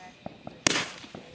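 A Fourth of July firework goes off in a single sharp, close bang that decays quickly, with faint voices talking quietly before and after.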